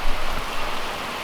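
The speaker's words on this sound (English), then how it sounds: "It's raining buckets out here." Heavy rain from a thunderstorm pours down steadily and densely, a loud continuous hiss of water hitting surfaces nearby.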